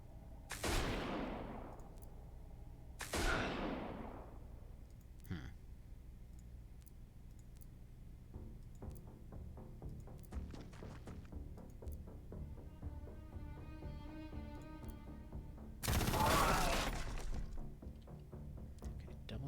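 Heavy cannon shots in the Xenonauts 2 strategy game, three loud booming blasts spaced several seconds apart with decaying rumble, plus lighter clicks between them and no talking.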